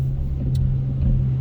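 A car pulls away slowly from a green traffic light, its engine a steady low rumble with mild revving, close and continuous throughout with no talking.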